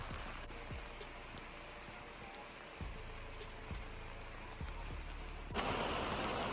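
Heavy rain from an atmospheric river pours down steadily during an uphill walk to a dock, a dense close hiss with occasional thuds and knocks, and the rain noise swells louder near the end.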